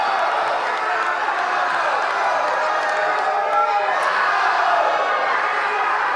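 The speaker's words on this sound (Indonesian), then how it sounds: "Kita berikan tepuk tangan yang meriah untuk paslon nomor urut 2" A crowd at a South Sumatra gubernatorial election debate applauds candidate pair number 2, producing a smooth, sustained wash of crowd noise and clapping that stays at an even level throughout.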